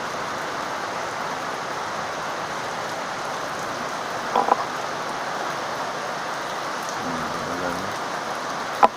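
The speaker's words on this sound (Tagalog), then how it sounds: "Ulan." Steady rain falls through the whole stretch as a dense, even hiss at moderate level. A few brief knocks come near the middle, and a sharp tap lands at the very end.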